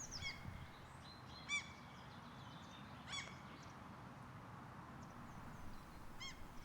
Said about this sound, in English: migratory birds are returning to the riverside